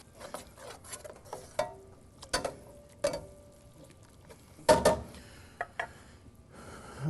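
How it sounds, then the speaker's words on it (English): Quick stirring of diced ingredients in a mixture for a beef tenderloin dish: scattered soft scrapes and clacks of a utensil against the bowl, a few louder knocks among them, close and fairly quiet with no talking. "We're going to give that a nice quick stir."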